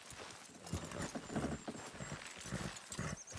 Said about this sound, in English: Good horses!